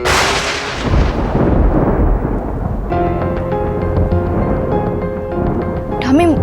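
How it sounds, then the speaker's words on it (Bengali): Thunder rumbles loudly through the first three seconds, a broad heavy roll, before music with sustained tones takes over, ending in a rising swoop. "বাজ পড়ছে"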